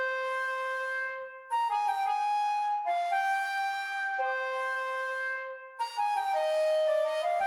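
A sampled Renaissance flute melody runs entirely legato, its long notes gliding smoothly into one another in a continuous line with only brief gaps, played alone without speech.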